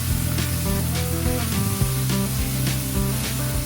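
Marinated chicken added to hot oil with garlic, ginger, chili and Sichuan peppercorns in a wok for Kung Pao chicken, a loud steady sizzle and spitting hiss filling the whole moment, with background music and no talk.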